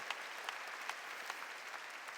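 Congregation applause at a Korean church worship service, a steady wash of many hands clapping at a moderate distance, fairly soft with a few sharper individual claps standing out.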